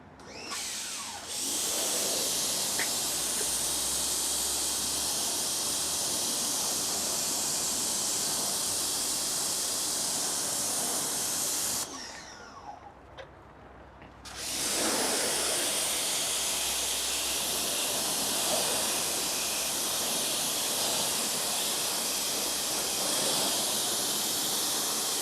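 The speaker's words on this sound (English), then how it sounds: "We're gonna rinse the wheel down" A strong, steady water spray rinses down a car wheel at close range, a loud continuous hiss that cuts off briefly for a couple of seconds and then resumes just as loud.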